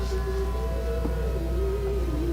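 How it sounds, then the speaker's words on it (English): A distant fire truck siren wails steadily in the background at a parade, its pitch wavering slightly, over a constant low rumble. "As you can hear them in the background with their sirens going."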